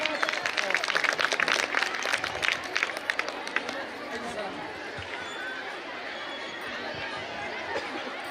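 Loud crowd applause welcoming a guest at a public honour ceremony for revolutionaries, dense and steady for the first few seconds, then thinning into a softer wash of crowd noise and chatter.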